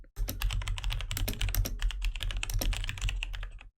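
Rapid, steady keystrokes clatter on a computer keyboard for nearly four seconds, close and fairly loud, with no voices.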